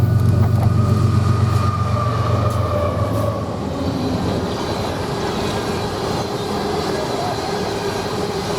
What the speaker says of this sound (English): where we find some coal trains